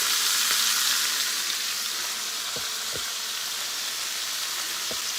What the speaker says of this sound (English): And then what I'm going to do is I'm going to kind of sear the sides.